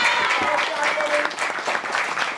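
A group applauds steadily at a patriotic presentation for young participants, dense clapping filling the space, with voices and whistle-like tones mixed into the crowd.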